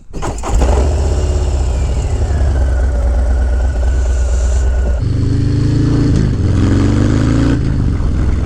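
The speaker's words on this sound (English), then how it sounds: "Let's get moving, we'll hop on the bike" An Indian Low Rider ST motorcycle engine cranks and catches, then settles into a loud, deep, close-up idle that rumbles steadily before shifting to a throatier rev partway through.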